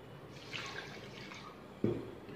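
Water is poured onto a cup of white sugar for a badusha syrup, giving a quiet, brief trickle and splash close by in a kitchen.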